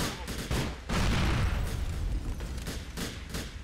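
Rapid bursts of gunfire in the video game GTA: The Lost and Damned crackle and boom in quick succession, loud and close, with a voice faintly underneath.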